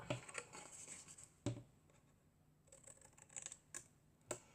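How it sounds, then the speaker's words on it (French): Quiet, close snipping clicks of scissors cutting paper, a few sharp cuts spaced irregularly with faint rustling between. "Alors des ciseaux, voilà."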